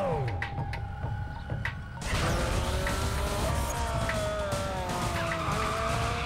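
Cars racing in Need for Speed Most Wanted, including a Toyota Supra, with engines revving and tires squealing loudly and continuously, the sound surging sharply after a brief quieter opening.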